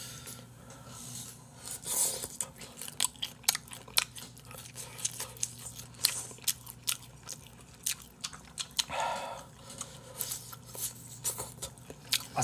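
Crunchy bites of lotus root from a spicy malatang bowl, a series of close, crisp crunches and chewing sounds at an irregular pace over several seconds with no talking.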